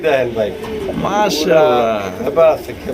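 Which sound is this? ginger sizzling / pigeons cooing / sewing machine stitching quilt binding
pigeons cooing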